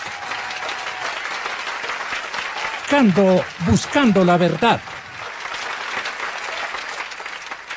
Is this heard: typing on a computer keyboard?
no